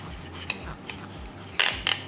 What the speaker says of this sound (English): I guess I'll go ahead and get to chopping.